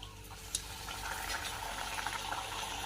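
A rolled bhatura deep-fries in hot oil for a dhaba-style chole bhature, giving a steady, dense bubbling hiss that stays close and even throughout with no voices.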